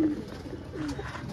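A Nil dum pigeon coos softly in short low murmurs, close by with faint background noise, no one speaking.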